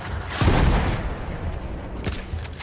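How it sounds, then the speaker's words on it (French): Mortar fire in the World War I shooter Battlefield 1: a muffled, heavy boom with a rumbling tail, then a second softer thump about a second and a half later, at a moderate distance. "Mais c'est du tir mortier."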